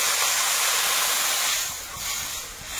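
Water poured into a hot pan of potatoes fried until red, giving a loud continuous sizzling hiss that swells and eases slightly.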